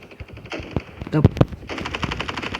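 Bursts of rapid gunfire in a Counter-Strike style shooter game crack close and loud, with a few sharp single shots mid-clip, while someone talks over the action.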